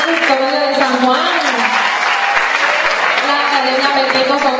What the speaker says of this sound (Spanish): Por favor, se aplauden porque ustedes se merecen ese aplauso